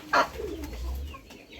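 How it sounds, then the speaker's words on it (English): A laying hen turkey gives a single brief, close call, followed by a faint low murmur against quiet background noise. "That female turkey sound will be like this one which you're listening to."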